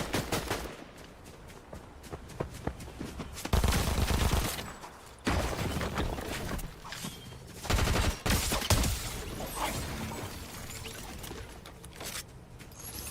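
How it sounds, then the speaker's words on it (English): SMG fire in the video game Fortnite, with rapid bursts of automatic shots crackling in clusters and pausing between them, loud and close, over a busy in-game mix of mechanical clicks and footsteps. "Shooting at people with an SMG 40 yards away."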